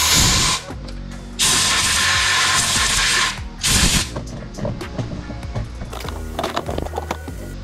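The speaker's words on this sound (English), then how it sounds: "We're gonna spray all those shavings off." Compressed air or spray blasts metal shavings out of a drilled aluminum part, two long loud hissing bursts followed by a shorter one, then clattering mechanical handling noises.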